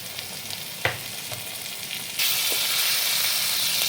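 Steady hiss of spices frying in hot oil, with a couple of stirring knocks early on, then the sizzle suddenly swells louder as mustard paste is added and stays constant.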